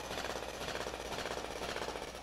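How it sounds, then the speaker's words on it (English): Rapid rattling hum of a mining drill in the space colony game MewnBase, boring for uranium: a fast, even pulsing buzz running steadily and fairly quietly with no pauses or talk. "get back to drilling."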